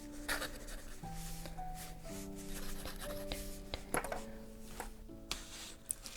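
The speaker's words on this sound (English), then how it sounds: "Let me write this down." A pen scratches notes by hand on paper at a luthier's desk, soft close scribbling in short strokes, quiet over gentle instrumental music with sustained tones.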